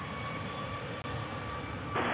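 Airliner taking off at Nashville International Airport, with steady broadband jet engine roar heard from a distance and rising slightly at the end.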